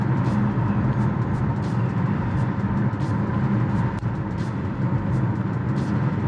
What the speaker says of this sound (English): There's a little bit of road noise, but it's not egregious